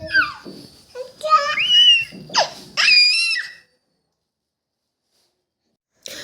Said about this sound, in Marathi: हा सगळा आरडाओरडा ना माझ्या हातातला चाकू घेण्यासाठी चालला